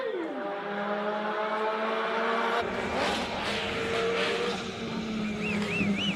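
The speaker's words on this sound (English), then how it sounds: "Turbocharged 4-cylinder rear-wheel drive Mark II Escort up the hill." A turbocharged four-cylinder rear-wheel-drive Ford Zaxpeed Escort Mark II race car climbing a hillclimb course, loud engine revving through rising gear changes with squealing tyres and a crowd faintly behind.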